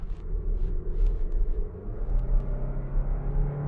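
A VW Multivan bus with a 1.4-litre four-cylinder engine drives a mountain pass road, giving a steady, close engine rumble and road drone that swells slightly and continues without a break.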